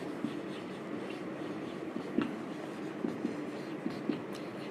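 Marker or chalk strokes on a board during a physics lecture on current electricity, heard as a few short, soft scratchy taps spread across a quiet room with faint background hiss and no talking.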